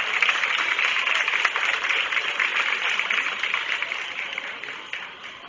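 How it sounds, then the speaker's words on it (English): An audience claps at a county fair goat show, a broad wash of applause from a crowd heard at moderate distance, steady throughout and easing off slightly near the end. "Let's give these five a nice round of applause"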